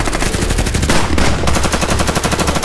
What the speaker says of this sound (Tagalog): agad kami nagpalitan ng putok